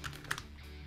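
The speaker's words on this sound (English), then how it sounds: "Press tab button on keyboard." A computer keyboard gives a few soft, quick key presses in a quiet room, faint and close over a low background hum.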